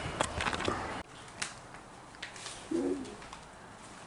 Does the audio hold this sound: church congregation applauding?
no